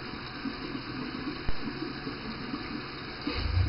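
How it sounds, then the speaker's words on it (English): A bathroom tap runs steadily into a sink while someone rinses their face after shaving, with soft splashes and a brief knock over the constant flow, close by. "next thing I want to do is rinse my face real quick"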